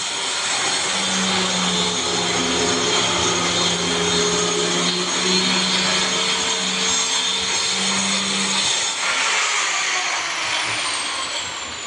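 A power grinder runs steadily and loudly on nano white granite for a kitchen counter, a continuous whining buzz with a droning hum that cuts out near the end.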